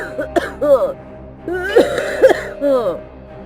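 A woman working in a farm field coughs and clears her throat in repeated harsh, rasping bursts, close and loud, coming in uneven clusters with short pauses between them.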